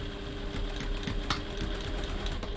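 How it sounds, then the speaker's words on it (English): A sewing machine stitches a gusset into a crossbody bag, a steady close whirring hum with rapid needle rhythm throughout. "now we're going to stitch this gusset in place"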